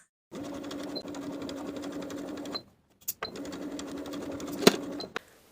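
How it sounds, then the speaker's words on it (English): A sewing machine stitches in the ditch along the yoke of a top in two close, steady bursts separated by a short pause and a few clicks, stopping cleanly at the end. "Now we can stitch in the ditch from the outside"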